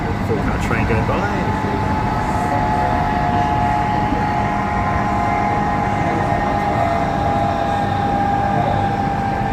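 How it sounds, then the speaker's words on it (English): Four-car train on the Armadale Line rolling past, a loud continuous rumble with a steady high whine that holds evenly from start to finish. "Okay, 4-car train going by."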